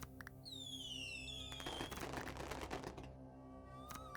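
Little fireworks go off in the strategy video game Hexarchy as happy symbols appear, with whistling rising tones, crackling pops and bursts over a soft sustained musical background, fairly faint overall.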